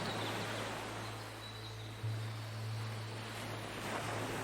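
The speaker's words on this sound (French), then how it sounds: "Tu poses tes pieds à la limite des vagues qui viennent te rafraîchir dans ta marche le long de la plage." Steady ocean surf washes along a sandy beach, a broad continuous rush that holds even and fairly loud throughout, with a low constant hum underneath and no voices.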